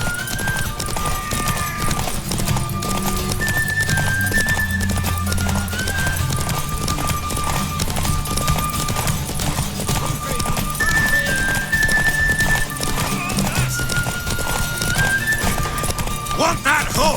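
Hooves clip-clop at a steady gallop with occasional neighs, under game music and voices in The Witcher 3: Wild Hunt.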